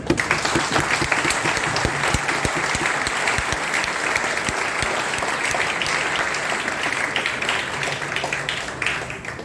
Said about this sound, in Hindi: हमारे गुरुजनों के सम्मान में तालियों की गड़गड़ाहट हो जाए